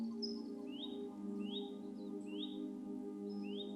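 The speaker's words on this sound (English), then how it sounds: "you can hear the birds singing in the trees" Soft, repeated bird chirps rise over a steady low hum, several short whistled calls spaced evenly and fairly faint.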